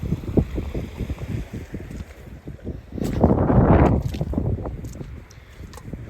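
Wind blows on an open foreshore while mudlarking and metal detecting, buffeting the microphone in a steady low rumble that swells into a stronger gust midway, with crunching footsteps underneath.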